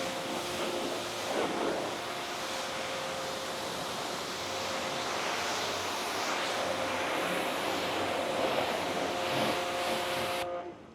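Pressure washer rinsing a car at a touchless car wash, a steady loud hiss of spraying water running continuously for about ten seconds with a faint machine hum underneath, then cutting off near the end.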